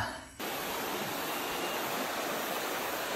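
Steady, loud rush of a waterfall pouring into a river on a forest hike, a dense unbroken roar that swells up suddenly after a quiet opening moment and then holds constant.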